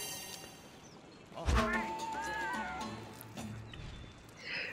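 A cat meows in the Monster Hunter World video game, a clear drawn-out call with a second shorter meow, moderately close over quiet game ambience.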